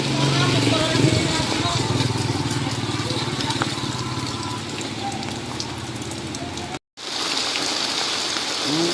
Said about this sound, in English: We got a little rainy day today.